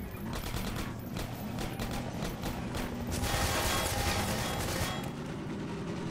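Dense automatic gunfire in Half-Life 2 Episode 2, sustained overlapping bursts with a heavier swell midway, fairly loud and continuous, with no voices over it.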